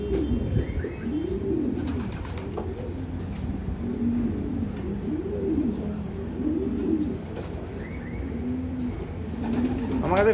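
A pigeon coos repeatedly in a close, rhythmic series of soft rolling calls, with low background noise and occasional faint chirps.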